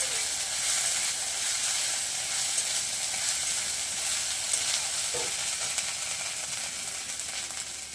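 A ginger and cumin paste sizzles steadily in a pan while being stirred for chhola dal, a continuous bright frying hiss with a few soft stirring scrapes, close and even throughout.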